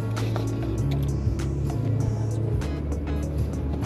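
A car drives through slow traffic, its engine and road noise forming a steady low rumble with occasional passing vehicles and brief bursts of noise nearby.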